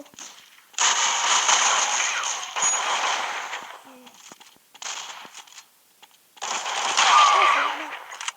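Gunfire from an online team war video game rattles in long, loud automatic bursts, with short pauses and a quieter stretch between them.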